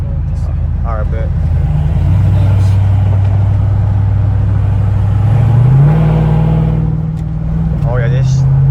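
A modded race truck engine floored at full throttle, roaring loud and close as its deep rumble steps up in pitch twice while it accelerates, with voices talking over it.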